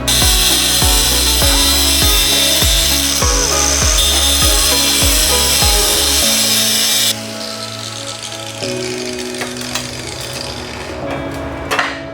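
A welded metal part on a TIG welding job is cut off with a power tool: a run of rhythmic, loud knocking bursts gives way to a steady, harsh grinding whine that continues close up with no talking.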